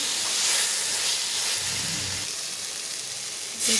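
Fried potatoes are stirred with spices in a hot pan for a fish curry, giving a continuous loud sizzle and hiss with faint scraping underneath and no talking.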